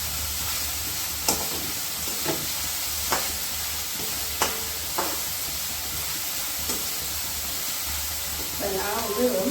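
Coriander and vegetables sauté in a hot pan, a low steady sizzle punctuated by several sharp spatula scrapes and taps, with a voice speaking briefly at the end.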